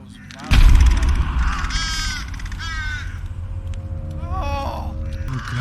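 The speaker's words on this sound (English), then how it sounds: "Those crows violent." Crows caw harshly in a creepy horror-film scene from The Nun, several loud rasping calls over a deep rumbling score after a sudden loud hit.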